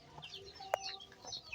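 A hen clucks once, short and fairly close, in an outdoor farmyard after rain, with faint bird chirps and background noise around it.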